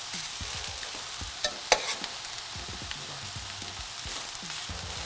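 Rice sizzles steadily in a hot pan for bibimbap, crisping on the bottom, a close, even hiss with a few sharp scrapes or pops near the middle.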